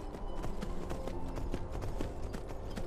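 Horse hooves clip-clopping at a steady walking rhythm in the Skyrim video game, even repeated thuds over a dense background of game ambience, with no talk.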